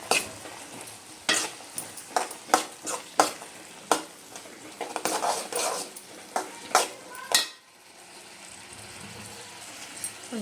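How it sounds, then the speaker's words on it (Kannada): Avarekalu curry with green chilli paste being stirred in a frying pan, repeated scraping strokes of a spoon against the pan in an uneven rhythm over a faint sizzle, no voices. "ಹಸಿ ಖಾರ ಹಾಕಿ ಅದಕ್ಕೊಂದು ಮಿಕ್ಸ್ ಕೊಡೋಣ್ರಿ."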